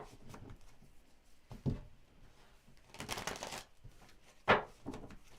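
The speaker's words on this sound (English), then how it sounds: "one more shuffle" Tarot cards are shuffled in several quick riffling bursts separated by short pauses, close and fairly quiet, with no talking.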